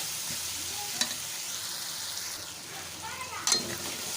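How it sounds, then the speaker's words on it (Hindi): Food frying and being stirred in a pan, a soft continuous sizzle close by with occasional scraping clatters of the spoon and a couple of sharper clinks. "ये देखें ये हमारी ज़बरदस्त फ्राई हो रही है।"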